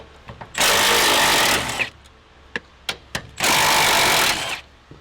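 A 14 mm wrench working stubborn bolts off the strut bar of a Nissan 350Z, heard as two long, loud bursts of rapid ratcheting with a few sharp clicks between them, and no talking.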